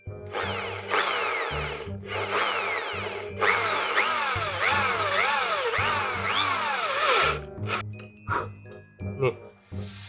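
Loud power drill whirring in repeated bursts while drilling a Honda Wave 125i motorcycle's valve cover, pitch rising and falling as it bites, with short pauses between runs and a low hum underneath.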